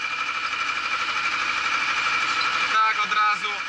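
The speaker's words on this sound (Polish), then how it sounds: "Ciągnik się nie grzeje, można orać." A tractor engine idles on a chilly morning on a farm, a steady close rumbling with a rhythmic knock, while someone talks over it.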